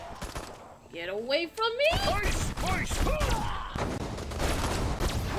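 Gunfire bursts ring out in the Destroy All Humans remake amid a busy, loud game mix, with a shouting voice and talk running over the shots.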